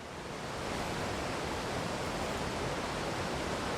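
A steady, even rush of falling water from a waterfall in a fishing video game, continuous broadband noise with no breaks, no voices.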